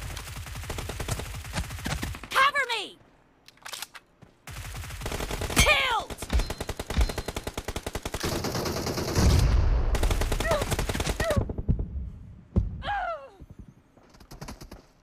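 SMG fire in PUBG Mobile, loud rapid automatic bursts in several long strings with short pauses between them, plus ricochet-like whines.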